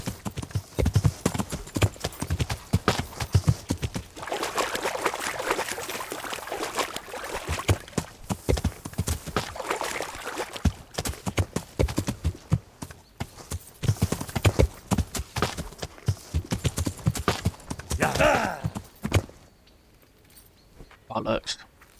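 Horse hooves clip-clop steadily in the medieval video game Kingdom Come: Deliverance, with a brief whinny, while someone talks over the rhythmic trotting, which fades out near the end.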